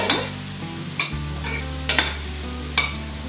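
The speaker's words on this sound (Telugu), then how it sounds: "సో మనం దీన్ని కొంచెం లైట్గా స్టిర్ చేస్తుంటూ స్టిర్ ఫ్రై చేయాలండి వీటిని." Chapati noodles get stirred and stir-fried in a pan: a low, steady sizzle runs underneath while a utensil clacks against the pan a few times at irregular intervals, close up and with no speech.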